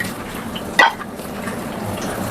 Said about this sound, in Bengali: সামান্য পানি দিয়ে দিলাম।